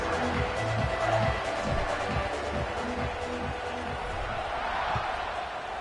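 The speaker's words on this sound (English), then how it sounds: "this crowd is buzzing after that last score" A stadium crowd at a college football game in an NCAA video game keeps up a broad, steady buzz, with a commentator talking over it.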